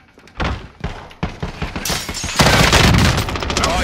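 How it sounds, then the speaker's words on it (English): Gunfire in the shooter game Call of Duty Warzone during a firefight: loud close bursts of automatic shots, sharp cracks with one heavy impact, building into a dense sustained volley, with voices faintly mixed in. "Taking fire"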